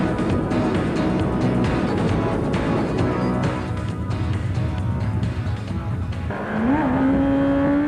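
Kawasaki ZZR motorcycle engine roaring loudly and continuously during a celebration wheelie after a long high-speed run through France, with a rising engine tone near the end.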